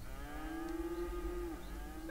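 A single long, steady cow moo from the Cities: Skylines farm simulation, clear and fairly close over a low background hum, lasting about a second and a half.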